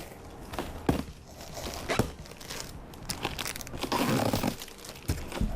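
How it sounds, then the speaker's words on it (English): A cardboard box is opened and packing material is cut away inside, close and fairly loud, with crinkling, tearing and rustling plus a few sharp knocks and snaps. Nobody speaks. "Let's start opening this box. All right. So cut all these out of here."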